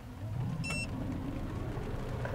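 A Mazda 6e with 258 PS surges at full throttle, heard from inside as a steady low rumble of road and drivetrain, with a brief electronic beep near the start.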